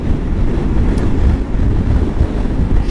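Strong desert wind buffets a rider on a 2022 Kawasaki KLR650 in Utah, making a loud, constant roaring rush close to the microphone with no break.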